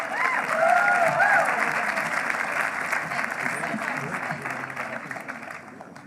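Audience applause for graduates at a Vermont Law School commencement ceremony, broad steady clapping from a large crowd that slowly fades, with a voice briefly audible early on.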